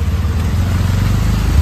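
A tempo delivery vehicle loaded with parcels arrives, its engine giving a steady, close, low rumble with no break and no voices.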